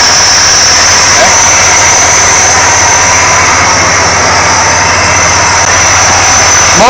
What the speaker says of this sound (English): there's a hissing noise coming from inside there. This is the carburetor.